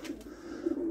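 A Vestrette pigeon, a fast breed of racing pigeon, cooing in a loft, one low steady murmuring coo held close and faint against quiet background noise.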